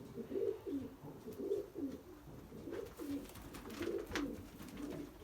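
Racing pigeons in a loft cooing close by, soft throaty coos repeating in a steady rolling rhythm over a faint background hiss.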